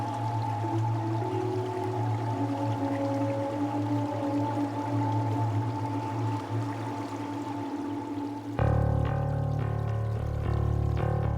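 Water pours and drains off the flooded deck of the yacht transport ship Yacht Express as it rises at sea, a steady rushing flow that shifts partway through into a louder, rougher gush.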